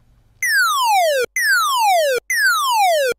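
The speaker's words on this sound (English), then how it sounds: "then we'll get some great sounding ray gun effect sounds like this." Three identical Sylenth1 ray gun zaps, each a bright buzzy tone diving steeply downward in pitch from a sawtooth LFO, fire in quick succession with short silent gaps, loud and close.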